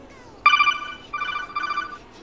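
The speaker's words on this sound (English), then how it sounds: "Sorry, my phone was ringing." A phone ringtone plays a short, bright, electronic melody in two or three quick bursts, close and clear against a quiet background.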